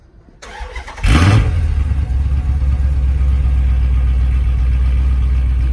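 A car engine cranks briefly and catches at about one second, then settles into a loud, steady, resonant idle that runs close by to the end, with no talk over it.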